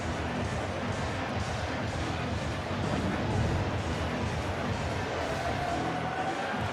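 A pumped-up crowd at a Blue Jays–Twins wild card playoff baseball game roars in a continuous, dense stadium wash throughout.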